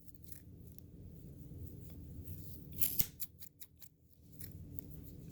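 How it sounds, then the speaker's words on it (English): Scissors snipping through thread: a quick cluster of crisp metallic cuts in the middle of an otherwise quiet, soft rustling background. "I'm cutting the thread."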